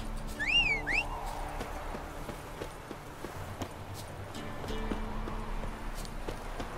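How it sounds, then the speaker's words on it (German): Horse hooves clip-clopping in The Witcher 3 video game, a steady walking rhythm under in-game ambience with a brief bird-like chirp near the start; no talking. "Ich hole mal mein Pferdchen."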